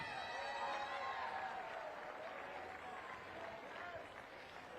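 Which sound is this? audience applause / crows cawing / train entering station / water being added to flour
audience applause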